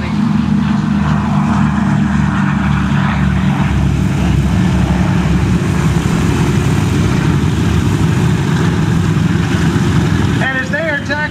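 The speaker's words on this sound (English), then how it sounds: "Second B-25. Our bombers. Whiskey 7 taking off too." B-25 warbird bomber aircraft at an airshow, taxiing and taking off: a loud, steady piston propeller engine drone holds throughout with a rising roar, and an announcer talks over it on a PA.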